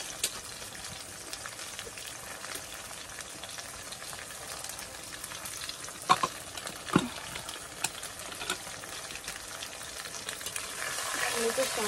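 Food frying in oil in a home kitchen while dinner is prepared, a steady close sizzle and crackle that runs throughout, with a few sharper pops and a faint rise in hiss near the end.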